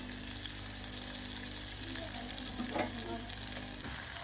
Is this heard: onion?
yes